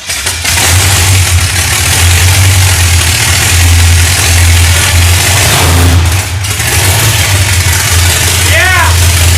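Roadkill's Stubby Bob car engine runs loud with no mufflers, a deep, rough idle close by that holds steady, dips briefly and returns, with a voice speaking over it.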